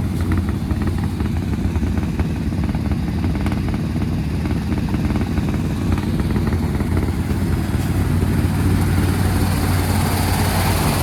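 A 1968 Dodge Polara V8 with a freshly swapped four-barrel carburetor and intake idles steadily, a loud, close, continuous rumble with a low throbbing pulse and no talking.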